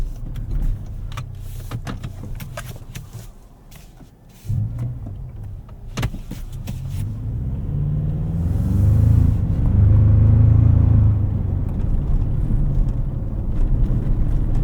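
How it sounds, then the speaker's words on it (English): Interior of a 2024 Toyota Tacoma TRD Pro driving over rough pavement, with low road rumble and scattered sharp rattles and knocks from seats and panels, close and continuous without talk. "Driving over this rougher section of pavement, there are quite a few shakes and rattles in this interior."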